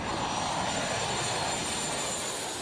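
Airplanes pass low over the thirteen domes of the Ukrainian St. Joseph church in Chicago, producing a steady, loud, broad engine roar that fills the whole moment without pause.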